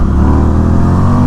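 A 2019 Indian FTR1200 motorcycle accelerates hard, its engine roaring loud and close in one brief sustained pull with no talking over it.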